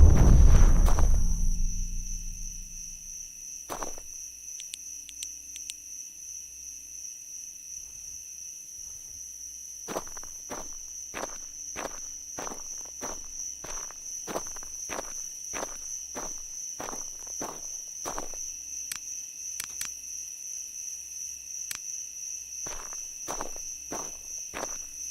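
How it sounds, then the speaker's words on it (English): Crickets chirp steadily through a night scene in the survival game Road to Vostok, a constant high insect drone with footsteps crunching in repeated bursts over it after a brief loud opening thud. "those crickets are so loud"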